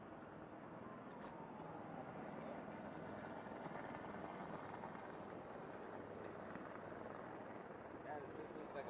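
A helicopter flies over a border area near Tijuana, its steady rotor and engine roar filling the scene continuously, faint and distant with a constant broad rumble.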